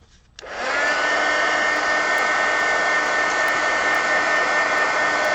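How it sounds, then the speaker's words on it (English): A heat gun blows steadily over freshly painted green watercolor, a loud continuous whooshing hum that starts abruptly and holds level without pause. "Dry. Heat gun."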